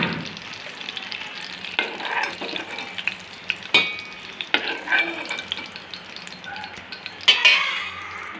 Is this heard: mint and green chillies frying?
yes